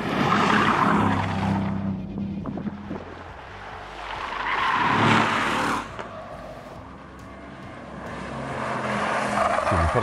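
A 510-horsepower Mercedes-AMG C63 S laps a race track, its engine roaring as revs climb and fall through the gears, swelling louder as it passes near and easing off between, with hints of tire noise.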